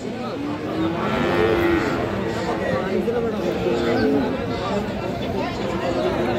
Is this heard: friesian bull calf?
yes